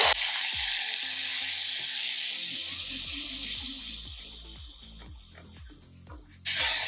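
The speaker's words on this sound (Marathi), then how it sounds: "मी थोडंसं तिखट ऍड करणार आहे तर्री येण्यासाठी आणि मी लगेच ओला मसाला ऍड करून घेते" Chili powder and wet masala hitting hot oil with curry leaves for Vadiche Sambhar, a loud steady sizzle that slowly fades, with a few stirring scrapes and a fresh burst of sizzling near the end.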